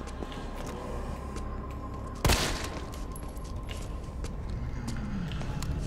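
A single loud gunshot from the PS4 game Resident Evil 3 Remake cracks out sharply midway, standing alone over a quieter bed of in-game ambience and faint movement noises.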